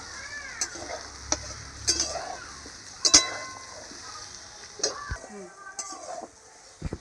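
Potato and pointed gourd stir-frying in a pan, a sizzle running underneath as the spatula scrapes and taps the metal in scattered, irregular strokes, some sharp clinks standing out.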